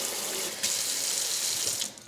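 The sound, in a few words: kitchen sink faucet running water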